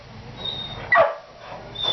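An impatient dog gives a single sharp, close bark with a yelping edge, set against quiet background hum and soft rustling.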